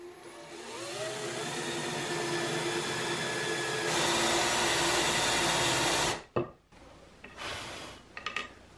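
An 18 mm Forstner bit bores into oak with a steady, loud whirring drill that holds for about six seconds, then stops abruptly, followed by a few short clunks and rustles.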